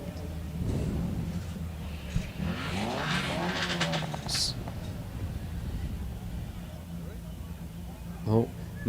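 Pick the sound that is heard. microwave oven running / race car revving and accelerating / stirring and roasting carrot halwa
race car revving and accelerating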